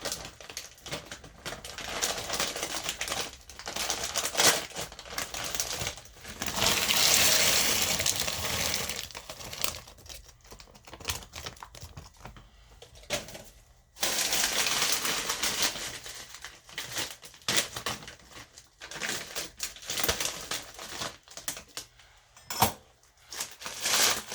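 Frozen mixed vegetables tumble from a bag into a Crockpot Express pot, a rattling, crinkling cascade of hard frozen pieces with bursts and pauses, close and moderately loud, no talking.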